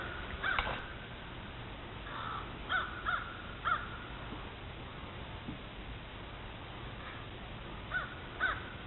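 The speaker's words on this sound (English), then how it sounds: "Three crows chasing around some kind of hawk or eagle" Crows caw in short, scattered bursts, a few calls at a time from some distance, over a steady outdoor hiss with no talking.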